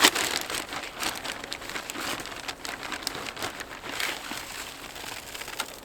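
Dry softwood shavings rustle and crackle in light, irregular patters as they are spread over a beehive's inner cover for winter insulation, close and fairly soft.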